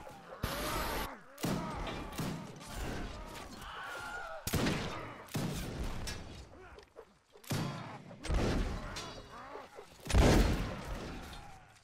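Rifles and muskets fire at a siege reenactment event: a string of loud, sharp gunshots and ragged volleys goes off one after another, some close and crashing, with shouting voices in between.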